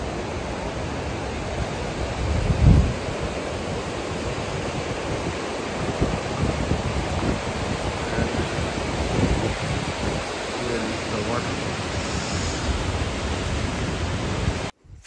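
The Gollinger waterfall in Austria roars down from the hillside in a steady, broad rush of water that fills the air, constant and unbroken, with no voices.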